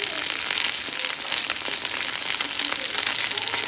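Lentil fritters fry in an iron wok with a continuous close, crackling sizzle, punctuated by faint scrapes and taps as they are flipped.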